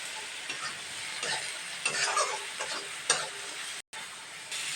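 Chopped tomatoes stirred into a frying spice mixture of turmeric and salt for a rui fish curry, a constant close sizzle broken by repeated scraping stirs, with a brief dropout near the end.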